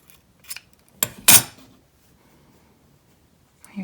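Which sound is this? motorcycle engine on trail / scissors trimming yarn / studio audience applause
scissors trimming yarn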